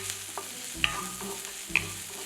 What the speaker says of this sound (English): 1 medium finely chopped onion, 2 finely chopped green chillies, 1 inch ginger grated. Saute for a minute.